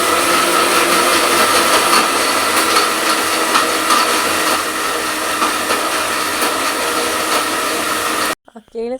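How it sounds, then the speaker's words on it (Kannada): A mixer grinder runs loudly on low voltage with a high, whirring motor roar for several seconds, then stops abruptly, leaving brief faint sounds. "ಇದೆಯಲ್ವ ಮಿಕ್ಸಿ ಸೌಂಡ್ ನಿಮಗೂ ಕೂಡ"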